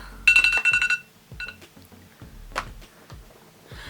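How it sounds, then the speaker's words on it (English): A bedroom alarm clock rings with a loud electronic beeping burst early on, followed by a few quieter chimes and clicks, with no speech. "That's basically my alarm clock to tell me to get a wriggle on to my mum's"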